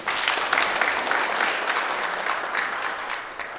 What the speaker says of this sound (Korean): 자, 다시 한번 박수 부탁드립니다.